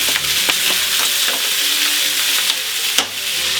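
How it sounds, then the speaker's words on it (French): Pork osso buco browning in a small frying pan with salt, a loud close sizzle and spatter with occasional scrapes and clicks as the pieces are turned. "On les fait colorer tranquillement, un peu de sel, on tourne, ossobuco tourne,"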